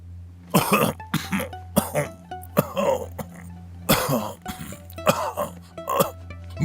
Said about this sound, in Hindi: न जाने मुझे किस वजह से खांसी लग जाती है।